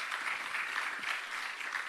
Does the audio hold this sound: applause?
yes